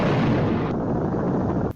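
A nuclear explosion sound effect in a fan-fiction skit, one loud, sustained roaring boom that fills the clip and cuts off sharply near the end.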